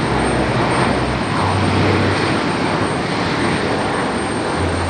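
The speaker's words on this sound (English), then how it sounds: "XJ is a Masaba Aviation aircraft" A Mesaba Aviation airliner at LaGuardia during a heavy rainstorm, its aircraft engine giving a loud, steady roar that holds throughout with no break and no talk over it.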